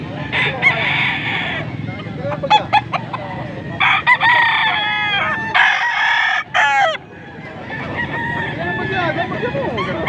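A Golden Boy breed rooster at a poultry sale in Pampanga crows loudly several times nearby, with clucking fowl and scattered voices talking in the background.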